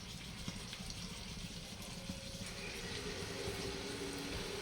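Spiced masala water pours steadily into a pan of egg masala curry with a soft, continuous splashing hiss, fairly quiet and close, with no talking.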